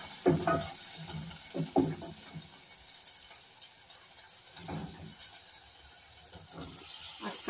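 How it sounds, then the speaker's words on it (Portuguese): Garlic and onion sautéing in a pan for a ground-meat sauce, with a few bursts of stirring and sizzling near the start and again midway, then a faint steady hiss and some watery clinks. "Alho, cebola, dá uma refogadinha."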